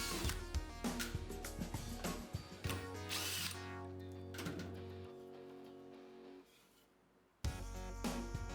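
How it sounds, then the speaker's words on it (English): Screws are driven out of a wooden keyboard wrist rest blank with a power drill on a workbench, giving a close whirring, ratcheting drill sound in several bursts that trail off toward the end, with a short rattle at the close. "Now I will bring it over to the bench and remove the screws."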